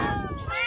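A cat meowing inside an animal impounding facility in Dasmariñas, Cavite, a single short, close, wavering cry.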